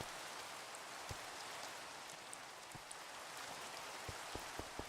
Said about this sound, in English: Hopefully it stops raining.